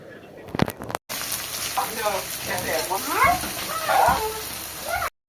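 Sliced onions sizzle in hot oil with bay leaf, dried red chilli and cumin in a home kitchen, a steady loud frying hiss under a voice talking over it.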